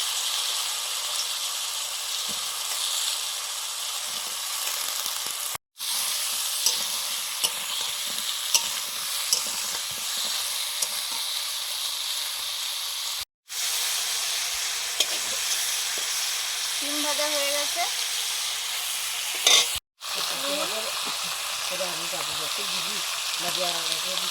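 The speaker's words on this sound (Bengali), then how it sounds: "আমি মূলো আর আলু দিয়ে দিচ্ছি একই সঙ্গে ভাজা কষা হয়ে যাবে" Radish and potato fry in a pan with a steady, dense sizzle that continues almost without a break, interrupted by a few brief silent cuts.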